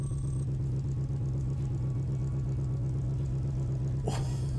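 A race car engine idling in Need for Speed: World: a deep, steady rumble throughout with a low thrumming drone, and a brief sharper noise flares near the end.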